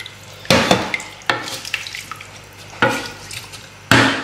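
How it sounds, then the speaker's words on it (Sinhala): Water poured into basmati rice in a pot at home, coming as four short, splashy bursts with quieter gaps between them and no talking. "ඊට පස්සේ දැන් වතුර ටික එකතු කරගන්න මේකට"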